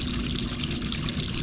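Antifreeze coolant draining steadily from a Mercedes-Benz W123 engine during a thermostat replacement, a continuous close trickling pour with no pauses or voices.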